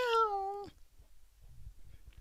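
A single drawn-out meow from a long-haired Turkish Angora or Norwegian Forest type cat, close and clear, followed by faint quiet rustling.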